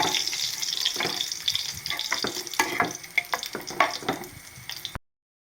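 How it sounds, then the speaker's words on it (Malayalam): Milk rice porridge (paal kanji) being stirred in a pot, with wet sloshing and scraping strokes in an uneven rhythm and a faint sizzle underneath, close and fairly loud, then ending abruptly. "നമുക്കിത് നന്നായിട്ട് ഇളക്കണം"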